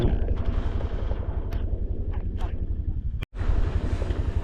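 Strong, cold mountain wind in Barlig, Mountain Province buffets the microphone in loud, rumbling gusts, broken by brief sharper bursts and a moment of sudden near-silence before the roar returns.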